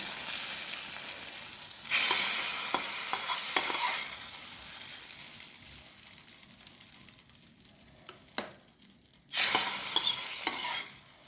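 Fried onions and curry leaves poured into a pot of ash gourd and chicken curry, giving a loud burst of sizzling that fades, with stirring scrapes and clicks, then a second sharp sizzle near the end.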